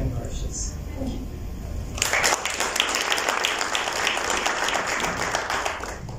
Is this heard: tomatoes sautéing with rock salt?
no